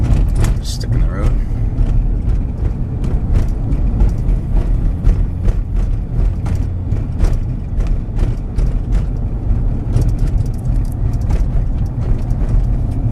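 A 2005 Ford Expedition driving on a road, steady engine and tire rumble heard from inside the SUV with frequent clicks and knocks over it, and a person talking throughout.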